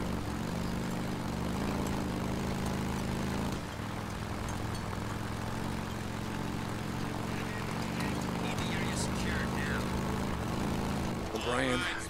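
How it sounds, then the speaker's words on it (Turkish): Propeller airplane engine droning steadily and loudly throughout in the video game Days Gone, with someone talking over it. "Demek ki uçak indi. Ben diyorum hala uçak havada mı?"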